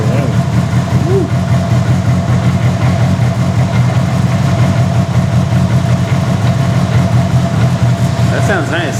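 Mitsubishi Evo 8 with GSE S3 cams idles steadily and loudly nearby, a constant lumpy engine drone throughout, with people talking over it.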